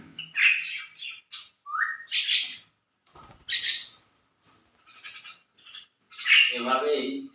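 Pet common myna chicks squawking in loud, harsh bursts close to the microphone, with shrill chirps separated by short silences and a person's voice occasionally heard between the calls.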